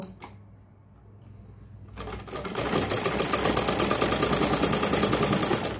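A sewing machine stitching a sleeve to fabric: after a quiet start with a couple of clicks, the motor starts up and runs a fast, steady, close-up stitching rattle to the end.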